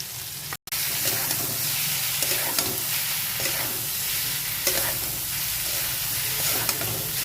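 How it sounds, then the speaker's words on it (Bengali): Mustard paste ground with garlic and green chilli fries in a pan, a dense continuous sizzle with light stirring scrapes and a brief cut near the start. "রসুনটা দেওয়ার পরে একটু কষিয়ে নিয়েছি যাতে সর্ষে কাঁচা গন্ধটা চলে যায়"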